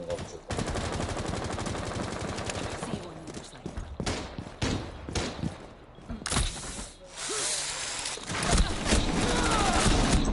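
Rapid gunfire bursts from a shotgun in the Rainbow Six Siege video game, loud sharp shots in uneven clusters over continuous game noise, with a voice talking at points.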